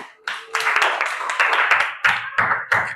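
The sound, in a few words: classroom children clapping hands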